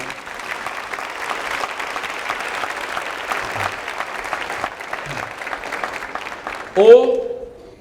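Audience applause at a bookstore book talk, a steady wash of clapping from a room full of people lasting several seconds, fading into a voice that begins speaking near the end.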